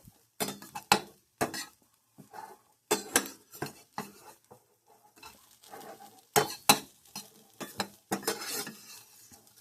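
Food sizzles faintly in a pan while a utensil scrapes, clinks and stirs against the cookware in scattered, close bursts separated by brief quiet gaps.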